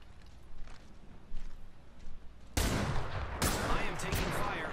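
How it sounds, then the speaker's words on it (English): Gunfire in the video game Apex Legends during Pathfinder gameplay: quieter game ambience with scattered shots, then a sudden loud, sustained volley of rapid shooting for the last couple of seconds. "I am taking fire."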